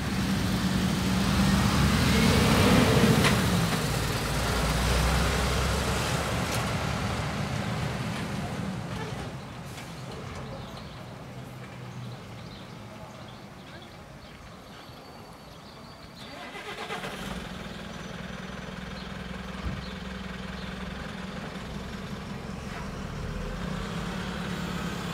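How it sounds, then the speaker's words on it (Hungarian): A bus pulls away from a railway station, its engine loud and rumbling at first, then easing off and fading before a vehicle engine swells again nearby; a voice speaks over parts of it. "Felvettem nektek a busz távozását is"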